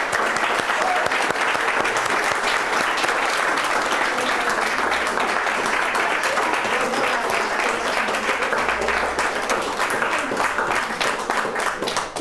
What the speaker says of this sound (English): round of applause for our awesome panel